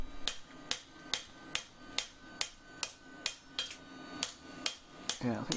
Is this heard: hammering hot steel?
yes